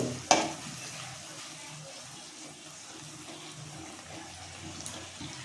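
Cashews, almonds and melon seeds roasting in a pan for bread halwa, giving a soft, low hiss with a sharp clatter near the start and faint stirring after it.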